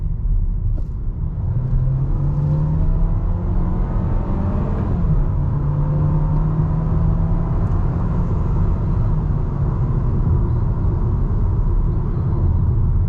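A 2022 VW Taos pulls away hard from around 25 mph, its small engine droning up in pitch, dropping as the dual-clutch transmission shifts, then climbing again. The steady engine and road rumble are heard from inside the cabin, with no talking.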